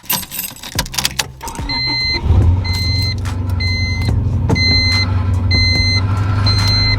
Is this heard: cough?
no